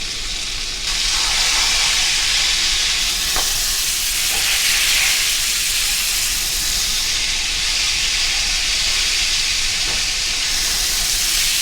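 Lamb sears in a hot pan, a loud, dense hiss and sizzle that swells after a quieter first second and keeps going, with a couple of faint knocks and no voices.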